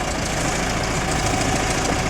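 Diesel engine of a 1990 Case 410c backhoe idling with no throttle, a loud, steady, close rumble with a knocking, vibrating texture and no break.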